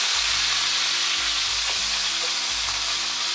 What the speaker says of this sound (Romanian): Am prăjit așa cât de cât pe toate părțile, pulpițele